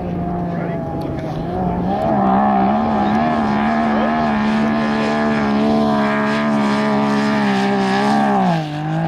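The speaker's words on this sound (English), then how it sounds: "That sounds like a pretty fast car." A fast car's engine drones loud and close across the Glamis sand dunes, its pitch rising and dipping as it revs through the run, with people talking over it.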